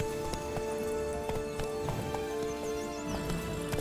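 Roach the horse gallops in The Witcher 3 video game, with a steady run of hoof clip-clops close by that continues without pause and a brief whinny, and no talking over it.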